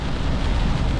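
Steady rain falls as a dense, even hiss with a low rumble beneath it, close and continuous for about a second with no voices.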